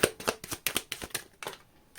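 A deck of cards is riffled close by: a quick series of papery flicks and snaps, about a dozen short bursts in two seconds.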